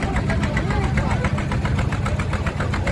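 Small boat engine at Kalianget harbour, a steady rapid chugging putter running close and loud, with voices faintly mixed in.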